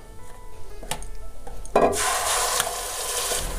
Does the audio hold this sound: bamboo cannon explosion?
no